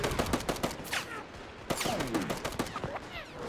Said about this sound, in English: French machine gunner.